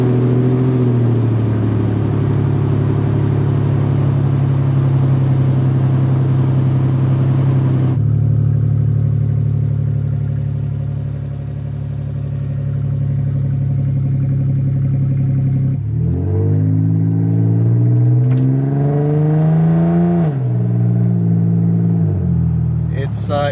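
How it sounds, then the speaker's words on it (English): A Toyota 4Runner with a small V6 and the muffler removed rumbles loudly at idle and steady speed, then revs up and down several times, with a raw, buzzy exhaust note close to the microphone. "the 4Runner now no longer has a muffler"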